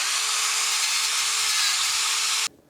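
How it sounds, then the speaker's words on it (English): Angle grinder fitted with a wire wheel stripping primer from metal down to bare steel, a loud, steady high-pitched whirring grind running continuously and alone, then cutting off abruptly near the end. "I'm just going to use an angle grinder with a wire wheel on it"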